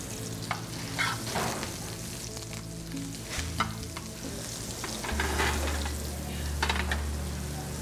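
Butter sizzles and fries in a hot skillet, a steady close crackle with occasional stirring scrapes and a low hum underneath, no voices.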